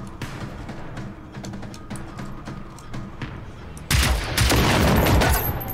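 Repeated gunfire from a gun in the video game Generation Zero, a dense volley of sharp reports over game background sound, growing louder and busier toward the end.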